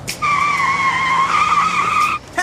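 A car's tires skid with a sustained, loud, steady squeal lasting about two seconds, ending abruptly, with a short engine-like burst right after.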